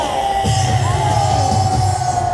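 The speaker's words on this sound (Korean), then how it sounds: "여러분의 함성 소리가 가면 갈수록 커져야 됩니다." A large crowd at an outdoor rally and worship gathering in Gwanghwamun shouting and cheering together, a loud sustained roar of many voices with steady low rumbling underneath throughout.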